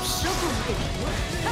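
A wall splat from the fighting game Guilty Gear Strive lands with a heavy smashing crash and whooshing effects, loud and dense over match audio, with a commentator's voice partly mixed in.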